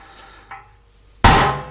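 A light tap, then a single heavy, ringing big-hammer blow on a steel punch, loud and close, fading slowly.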